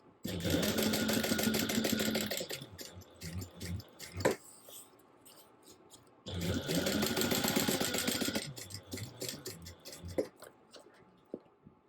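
A sewing machine top stitches fabric 1/8 inch from the bottom edge in two rapid, rattling runs of about two seconds each, with a pause between and quieter handling clicks after each run.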